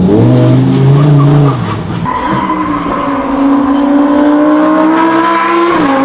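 A race car, likely a toy or recorded sound effect, revs up and down in rising and falling tones with a skid-like squeal. It is loud and close and heard alone.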